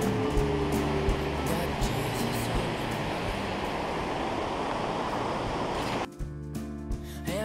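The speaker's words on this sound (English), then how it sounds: "Incredible waterfall, river, rushing from snowmelt." A waterfall and river rush with snowmelt in Olympic National Park, making a dense, broad roar that fills the air. The roar cuts off abruptly near the end, leaving quieter background sound.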